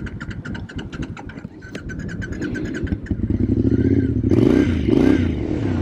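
A carbureted 2006 Triumph Scrambler 900 motorcycle engine runs close by, starting with a steady throbbing beat and building into louder revving toward the end.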